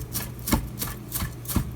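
Knife chopping elk meat on a cutting board for burgers, about five sharp close chops in a steady rhythm, with no talk.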